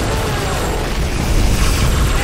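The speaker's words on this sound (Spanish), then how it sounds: "Eso está explotando" Explosions in the Halo 3 video game aboard an infested ship make a loud, dense, continuous rumbling roar with heavy low-end booms throughout.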